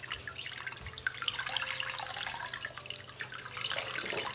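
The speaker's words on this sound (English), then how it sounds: "what you need to do is press the water out" Water is squeezed and drips out of soaked toilet-paper pulp being pressed by hand for papier-mâché clay, a soft close trickle with scattered drips and faint wet squishing.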